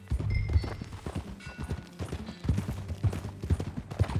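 Horse hooves clip-clopping while being ridden in Red Dead Redemption 2, a steady, fairly quiet rhythm of hoof beats over ambient game sound.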